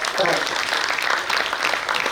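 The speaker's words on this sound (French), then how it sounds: "Merci d'applaudir pour accueillir la compagnie Africart Danse." An audience applauds to welcome the Africart Danse company at an anniversary opening ceremony, a busy patter of clapping with voices mixed in and ongoing talk underneath.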